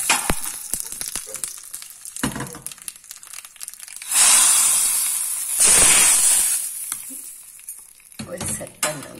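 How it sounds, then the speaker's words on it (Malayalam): Mustard seeds pop and sizzle in hot oil alongside curry leaves and a chilli in a Kerala kitchen, a loud hissing fry with sharp crackling bursts and scattered pops that swell and subside. "കടുവ് പൊട്ടിക്കഴിഞ്ഞു"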